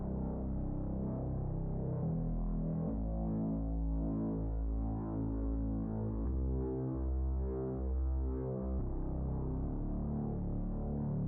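Heavily distorted sub bass line in a dark, ominous pop beat, a thick, gritty low throbbing that pulses in a repeating pattern and sits up front alone, with no voices.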